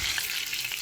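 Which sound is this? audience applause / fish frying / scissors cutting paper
fish frying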